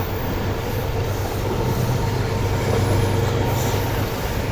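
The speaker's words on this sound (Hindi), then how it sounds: "यहाँ पर हमारी ट्रेन यहाँ से लेफ्ट साइड पर मुड़ गई है।" Packed Subak Raftar railcar train running and curving to the left on its track, a continuous loud rumble of wheels with a faint high squeal over it and no talk.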